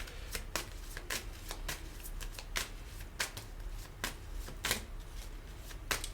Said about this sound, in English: I'm shuffling normally like this